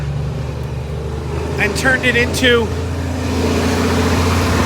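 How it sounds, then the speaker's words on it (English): A loud truck rumbles past on a street, a heavy low engine drone that holds steady and swells across the few seconds while someone speaks over it. "it's a loud truck going by."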